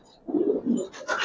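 Racing pigeons of the Giribaz breed give a few low, soft coos close by, then a brief brighter rustle or flutter at the end, with no talking.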